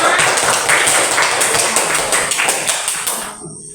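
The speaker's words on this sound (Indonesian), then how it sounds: "Ya, tepuk tangan semua." A classroom of students clapping their hands in applause, a dense, steady patter of many claps that fades out near the end.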